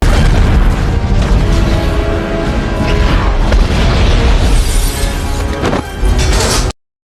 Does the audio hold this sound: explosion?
yes